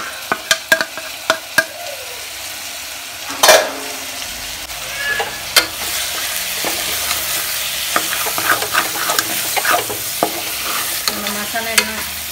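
Spiced chicken masala stirred and frying in a pan, a steady sizzle with spoon scrapes and clinks against the pan scattered throughout, close and fairly loud, with no talking.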